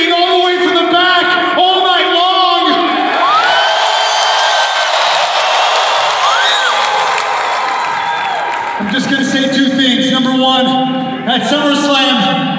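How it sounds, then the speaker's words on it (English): Wrestling arena crowd at a WWE Raw event in Green Bay screaming and cheering loudly and continuously, with whoops and shouts from a packed audience filling the whole stretch, and a person talking over the noise. "we heard you screaming all the way from the back"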